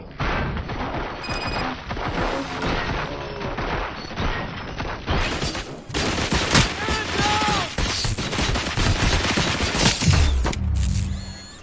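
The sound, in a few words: gunfire in the video game RoboCop: Rogue City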